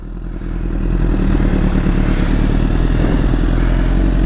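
A motorcycle stuck on snow revs steadily with a loud, rough engine drone and rattling clatter, close by and continuous, its revs rising slightly as it strains while caught on the rider's foot.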